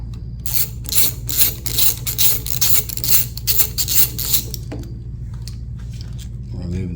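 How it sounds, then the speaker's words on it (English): An 8mm bolt holding the stock bar end weight on a Kawasaki handlebar is worked loose with a tool, giving close, rhythmic ratcheting and scraping for several seconds before a brief clink and quiet. "We're going to remove the 8mm bolt that holds the stock bar end weight."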